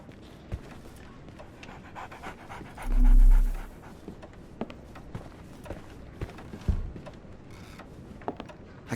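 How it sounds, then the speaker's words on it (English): Dog panting in the Sherlock Holmes The Awakened video game, a rapid rhythmic huffing that runs steadily throughout at close range, with a few footstep-like thumps and a brief low rumble midway. "So, Barnes has a dog now. Who's a good boy?"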